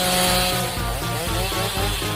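A chainsaw in a cartoon cooking scene runs with a harsh, buzzing engine drone, loud and continuous with slight wavering in pitch throughout.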